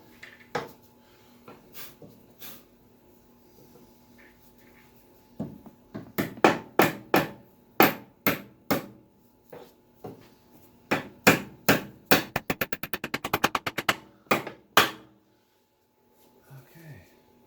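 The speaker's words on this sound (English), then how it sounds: "Let's hammer that guy in" Sharp hammer blows strike metal while fitting a key on a John Deere TRS 32 snow blower, scattered at first, then a steady series of strikes ending in a rapid flurry of quick taps, close and loud.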